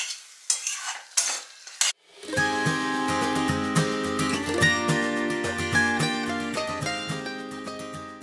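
Duck egg shakshuka being cooked in a pan, with steady stirring and scraping against the pan over a continuous frying sizzle, preceded by a few sharp knocks and clatters, close and loud with no talking.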